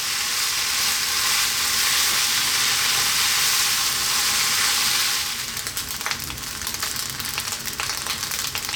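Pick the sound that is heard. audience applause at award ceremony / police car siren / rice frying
rice frying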